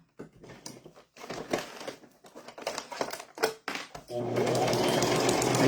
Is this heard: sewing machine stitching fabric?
yes